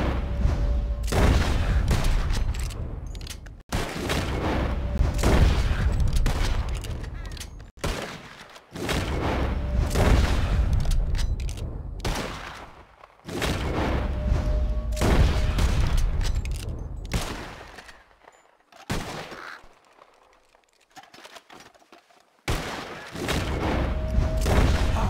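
Loud rapid gunfire rings out in Red Dead Redemption 2 as shooters fire at flying birds, coming in long rattling volleys broken by brief pauses and a quieter stretch near the end.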